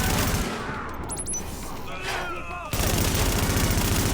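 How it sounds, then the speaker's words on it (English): Gunfire and an explosion in the video game The Division come as dense, continuous rattling bursts with a sharp jump in loudness partway through, over some faint game voice and chirps. "That explosion is going to help."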